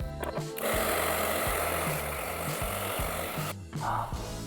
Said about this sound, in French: avec le sèche-cheveux